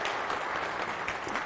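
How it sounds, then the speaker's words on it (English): Steady applause from a conference audience for event volunteers, a dense even wash of clapping with no gaps across the whole stretch. "Can we have a round of applause for all the volunteers who have been really hustling this weekend?"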